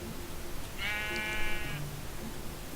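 A single drawn-out Minecraft sheep bleat, clear and wavering, lasting about a second over faint game ambience.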